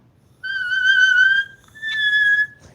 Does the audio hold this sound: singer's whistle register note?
yes